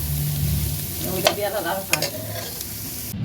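Noodles fry in a pan with cabbage, carrot and coriander, a constant close sizzle with a couple of sharp utensil scrapes and tosses partway through, with no talk.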